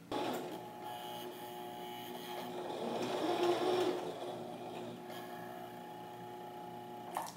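A sewing machine runs slowly and steadily while stitching a large hand-shaped pillow, a close mechanical whir with a faint hum that swells a little midway, with no talking.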